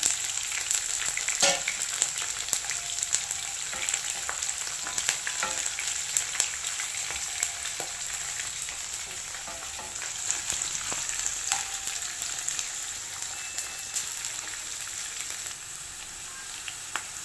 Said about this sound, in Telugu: ఉల్లిపాయలు వేసుకుందాం ఫస్ట్. పచ్చిమిర్చి,